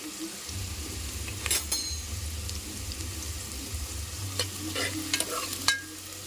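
Onions sizzling in hot oil in a pan for mutton curry with tamarind leaves, a steady close frying hiss broken by scraping stirs and a few metal clinks, with no talk.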